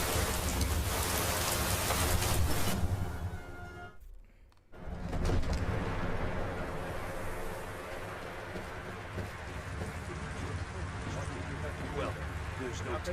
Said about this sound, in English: And we found rain.